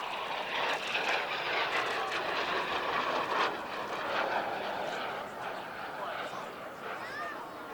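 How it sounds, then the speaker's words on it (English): A refurbished Folland Gnat T.1 jet nicknamed Vespina flies in at the RAF Cosford Air Show, its broad, sustained roar slowly swelling and fading, with a commentator speaking over it. "And here it comes, in from the left, the Folland Gnat T.1."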